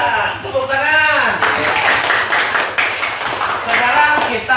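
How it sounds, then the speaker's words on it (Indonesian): Students in a school classroom clap their hands during a science lesson, the patter of claps mixed with voices talking over them throughout. "tepuk tangan"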